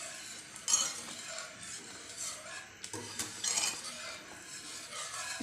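Metal spoon stirring semolina halwa in a pan, scraping and clinking steadily with occasional louder knocks against the side, close and continuous.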